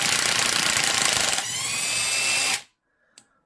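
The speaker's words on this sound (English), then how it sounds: "this earthquake impact wrench is cheesy, but at least they finally learned on a lot of these electric impact wrenches" A cheap Earthquake electric impact wrench hammers on a 1/2-inch Icon swivel socket from Harbor Freight. A loud, close, rapid rattling burst shifts pitch midway and cuts off sharply, followed by a single faint click in the silence.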